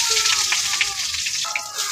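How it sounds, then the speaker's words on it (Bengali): Onions fry in oil in a kadai, making a steady, close, bright sizzle with small pops and a little stirring noise and no speech. "কড়াইতে অল্প কয়েকটা পেঁয়াজ দিয়ে নিচ্ছে"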